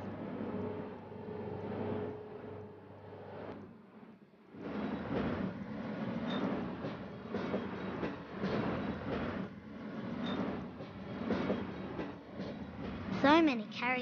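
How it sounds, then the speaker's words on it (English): A train pulls away slowly from a station in a steady low rumble of moving carriages, moderately distant, that rises after a brief lull and ends with a short high squeal. "The train moves very slowly at first."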